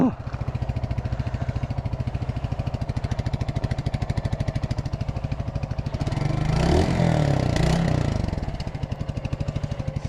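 A 200cc Mutt motorcycle with no kickstart idles close by in a steady, rapid thumping pulse, briefly revving louder and rougher mid-clip before settling back to idle.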